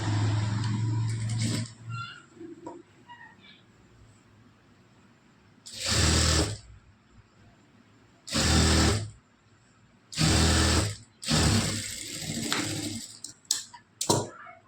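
A sewing machine stitching blouse fabric runs in several loud bursts, each lasting one to two seconds and separated by quieter pauses, close to the listener.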